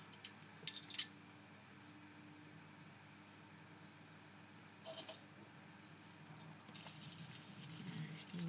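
High-pressure water sprays onto old car brake parts being cleaned during a restoration, a steady broad hiss that swells in a few louder bursts near the start, middle and end.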